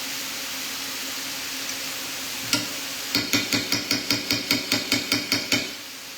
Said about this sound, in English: You just want to break the mince up.